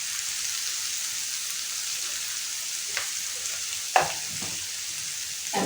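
Garlic and turmeric fry in a pan with a soft, even sizzle, and a couple of brief clinks and scrapes come from a utensil near the end.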